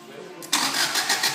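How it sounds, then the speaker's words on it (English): A Subaru WRX engine cranks and fires up, catching abruptly and settling into a loud, close idle that carries a rapid tapping from the middle of the engine. "And you hear that tapping sound."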